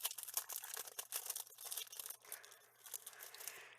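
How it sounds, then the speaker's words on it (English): Thin paper and stamp sheets crinkling and rustling close up during junk journal crafting, a busy run of crisp crackling and crumpling bursts that eases off toward the end. "Sorry for the crinkling."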